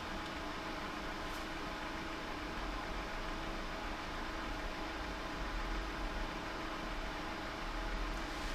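Steady, even whooshing of a countertop water distiller's small fan running, like soft white noise, unchanging throughout and fairly quiet.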